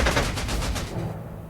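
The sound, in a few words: fighter aircraft strafing units in video game Panzer Corps 2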